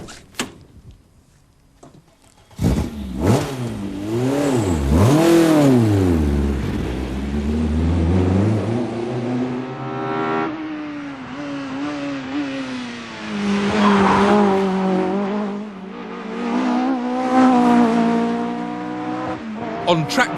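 A BTCC touring race car revs hard on track, engine pitch sweeping up and down through gear changes with tyres squealing, loud and close, with someone speaking over parts of it.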